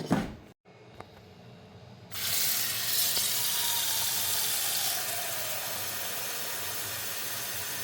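A small pot of water heats on the stove toward a boil, a brief clatter giving way to a steady broadband hiss and rush that holds at even loudness, close by.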